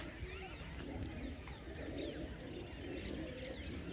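Pigeons coo softly on a rooftop as they are fed grain, low repeated murmuring calls with a few faint chirps over a steady outdoor background.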